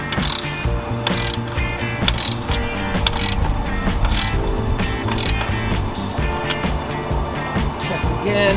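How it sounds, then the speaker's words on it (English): A ratchet clicks rapidly while nuts are tightened on a boat jack plate, steady metallic ratcheting close by with dense mechanical clatter throughout. "And then tighten the nuts down."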